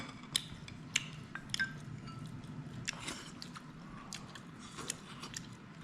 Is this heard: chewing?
yes